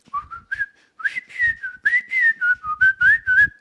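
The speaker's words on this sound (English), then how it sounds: "Whistle the Andy Griffith Show theme." A person whistles the Andy Griffith Show theme, a clear solo melodic tune of short bright phrases with brief pauses, close and loud, no talk.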